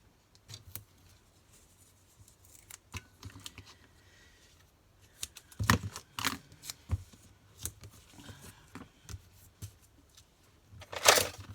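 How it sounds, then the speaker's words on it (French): Scissors snipping adhesive tape while a paper card is assembled, a handful of crisp close cuts in separate bursts, loudest near the end, with light handling and rustling of paper between them. "je prends mon ciseau pour le scotch"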